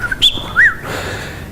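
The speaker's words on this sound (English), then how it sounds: "it's a chaffinch, and you would recognise it by the sound as well" A chaffinch sings a short, clear run of whistled notes, near and distinct, against a quiet background.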